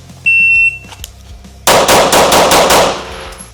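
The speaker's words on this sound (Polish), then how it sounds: "Bill drill, czyli 6 strzałów na 6 metrach." Six rapid pistol shots fired from a Stealth Arms Platypus with a 4.25-inch barrel during a bill drill at six metres, sharp evenly spaced cracks in a quick string, preceded by a short electronic shot-timer beep.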